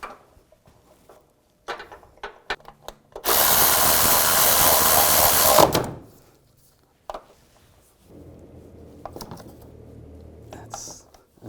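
A power tool drives down the timing chain tensioner bolt on a 2010-2017 Chevy Equinox engine in one loud, steady burst of about three seconds, with quieter clicks and handling noises before and after.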